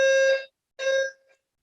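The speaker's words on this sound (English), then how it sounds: "That's my fire alarm." A home fire alarm sounds two loud, harsh electronic beeps, each about half a second long and separated by a short gap, heard close with no talk over them.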